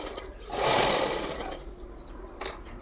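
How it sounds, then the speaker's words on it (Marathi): A sewing machine stitching fabric for a Gudi sari, a steady mechanical whirring run that swells and then fades, close and moderately quiet, no speech. "मी इथं पूर्ण इथं डबल टिप देऊन शिलाई करून घेतली"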